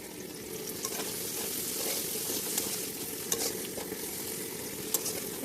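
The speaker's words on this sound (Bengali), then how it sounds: "কড়াইতে আবার তেল ঢেললাম এবার পেঁয়াজ কুচি রাখা ছিল পেঁয়াজটা দিলাম" Chopped onion fries in oil in a kadai, sizzling steadily and close up, with occasional sharp spatters and the scrape of stirring, no voices over it.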